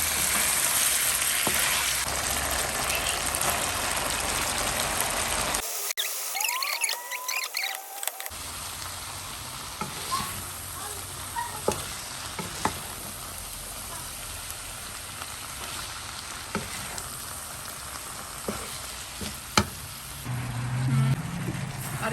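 Chicken and mixed vegetables fry in a pan for chow mein with a steady, rain-like sizzle throughout, briefly cut to near silence partway, then crackling resumes with scattered pops and small clicks.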